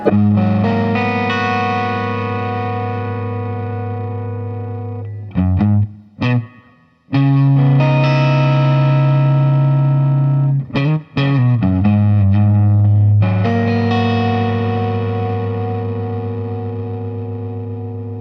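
Sustained electric guitar chords through a Pigtronix Philosophers Tone Germanium Gold Micro compressor pedal ring out evenly with smooth, consistent volume, broken by a few short choppy strums before the long chords return.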